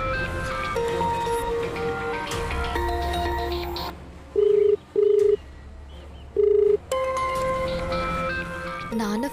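A telephone rings in a household TV drama scene: three short electronic ring bursts cut through after a music cue, with brief quiet gaps between them.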